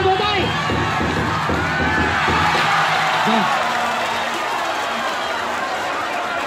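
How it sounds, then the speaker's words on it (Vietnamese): A live crowd at a men's and women's traditional wrestling event in Ninh Hiep, Vietnam, claps and cheers loudly in a sustained burst, with shouts and an announcer's voice over the applause. "Mời khán giả cho một tràng vỗ tay"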